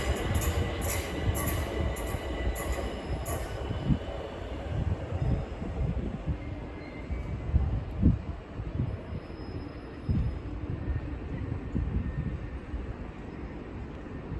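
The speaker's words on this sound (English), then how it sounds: "Now arriving is the 1441 Southeastern service from Dartford to London Charing Cross with 465-154 leading." A Southeastern class 465 electric train arriving at London Bridge station, a steady rumbling roll of wheels on track with brief high squeals and rattles, sustained and fairly close, with no talking.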